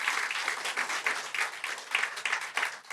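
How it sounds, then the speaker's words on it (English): An audience at a legislative reception applauds, a steady patter of many hands clapping at moderate volume for about three seconds, no talking over it. "You can applaud that."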